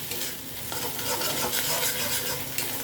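Paste of ground garlic, mustard and green chili frying in a pan for a Bengali recipe, steady loud sizzle with scraping stir strokes throughout, close and continuous, no voices.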